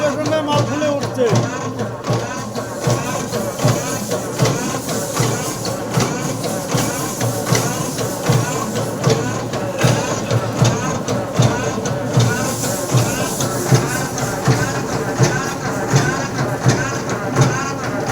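A batasa machine turning out small jaggery sugar candies runs steadily at a Purulia workshop, a continuous mechanical clatter and hum with rhythmic clicking, while people talk over it.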